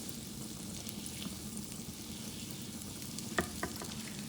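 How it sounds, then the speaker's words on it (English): Butter melting in a hot pan gives a steady, soft frying sizzle with a light stir and a couple of brief clicks near the end. "I'm going to melt some of that butter first"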